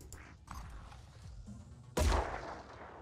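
Pistol shots in Phoenix Point, a few soft pops early, then one loud sharp report near the end that decays into a rumbling tail.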